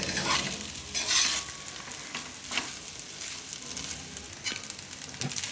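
A spoon scrapes and stirs methi matar pulao, rice cooked with fenugreek leaves and green peas, in a pan. It makes steady close scraping strokes over a soft sizzle, with no talking.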